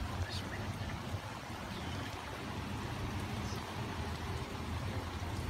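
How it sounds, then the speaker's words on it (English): Heavy rain falling outdoors in a sudden downpour, a dense, steady hiss and patter at moderate level that continues unbroken. "It's raining pretty good right now."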